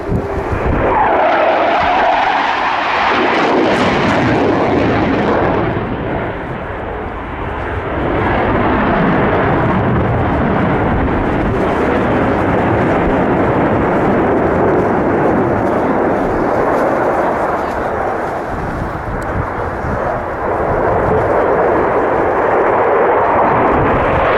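A Eurofighter Typhoon jet pulls a near-9G turn at the Royal International Air Tattoo air show, a loud, sustained roaring engine rumble with a brief dip midway, dominant and alone.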